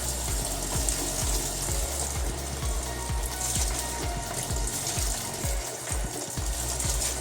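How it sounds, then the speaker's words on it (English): Continuous rushing water in a washing machine loaded with pillows as bleach goes in, a steady mid-level wash with a faint rhythmic mechanical thump underneath and no talking. "we are going to add the bleach."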